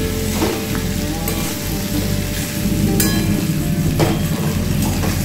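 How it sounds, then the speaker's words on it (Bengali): Ground cumin and coriander powder frying in a hot pan for a traditional Bengali pumpkin and potato dish, giving a steady, close sizzle that runs evenly throughout with a few brief scraping stirs. "জিরেটা ধনে গুঁড়োটা একটু ভেজে নিই।"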